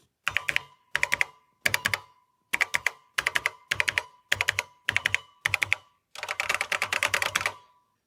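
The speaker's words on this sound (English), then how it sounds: "Feels absolutely fantastic to type on this particular keyboard." Fast bursts of keystrokes on the Alps linear switch keyboard of a TI-99/4A computer, eleven short clusters of crisp clicks with a faint ping, ending in a longer run, close and alone.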